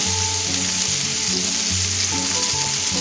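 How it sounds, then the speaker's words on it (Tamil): Ingredients sautéing in a pan over a low flame, giving a dense, even sizzle heard up close without pause, alone with no talk. "ஓரளவு தீயை குறைச்சி வச்சு நம்ம வதக்கிக்கலாம்"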